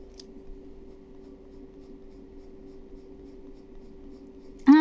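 Colored pencils scratching on sketchbook paper, a soft, steady scratching under a faint constant hum, ending in a brief louder knock.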